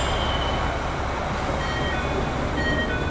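A limited express train pulls out of Sapporo Station, a steady low rumble of the moving train filling the whole stretch with faint high wheel squeal near the end and no talk.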